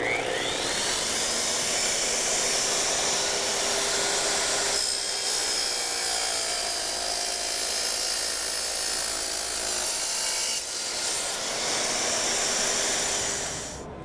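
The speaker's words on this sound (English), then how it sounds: "IQ has got a solution with a dustless tile saw. It's a 10-inch tile saw, dry cut." IQ 10-inch dustless dry-cut tile saw cutting through tile, a loud continuous high-pitched whine and grinding roar that holds steady for about fourteen seconds with brief dips in load, no talking.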